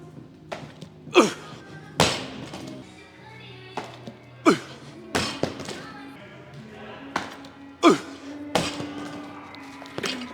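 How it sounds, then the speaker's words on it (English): Barbell power cleans with 225 pounds in a weight room: a series of heavy thuds and clanks as the bar is pulled and dropped, loud and close, spaced every second or two, with faint background sounds between lifts. "We got 225 on the bar here, 3 sets of 1 power cleans here, making it nice and quick."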